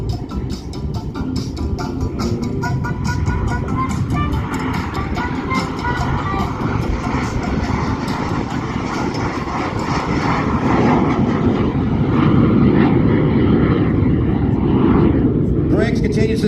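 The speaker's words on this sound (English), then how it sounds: "He's cranking that smoke out slow speed, showing you the landing attitude, bringing the aircraft with the gear down" A T-33 jet roars steadily overhead at an air show, flying slow with gear and flaps down and trailing smoke, a loud continuous engine drone that swells slightly toward the end under an announcer's voice.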